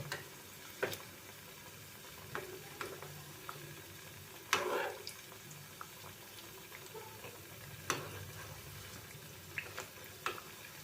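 A quiet, low sizzle of wheat-flour sweets frying gently on a low flame, punctuated by occasional soft clicks and taps of a utensil against the pan as they are turned.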